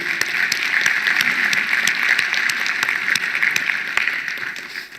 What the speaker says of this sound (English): So a big round of applause for our team.